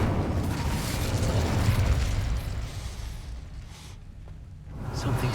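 A roaring whoosh of the Incendio fire spell, cast in Hogwarts Legacy, surges loud and close for a couple of seconds, then drops back into a softer rumble before swelling again.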